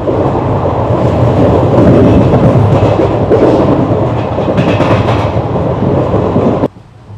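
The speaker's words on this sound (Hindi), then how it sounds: "दोस्तों हमारी ट्रेन आ चुकी है नाथवाना रेलवे स्टेशन पर" The Jodhpur-Jammu Tawi Express rumbles along the rails with a loud, dense roar and rhythmic clatter heard from on board, then cuts off abruptly near the end.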